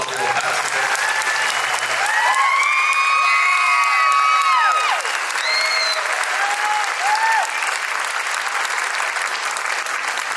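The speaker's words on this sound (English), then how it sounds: "Can we give them a round of applause for that?" Audience applause with cheers and whoops at a school band concert, honoring 43 graduating band seniors; dense steady clapping fills the clip, with high whistles and shouts rising above it.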